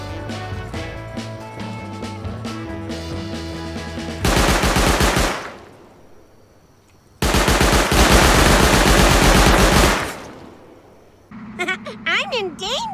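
Machine-gun turrets in the video game Rust open fire in two loud, sustained automatic bursts, one short and one longer, with quieter game sounds and music before and between them.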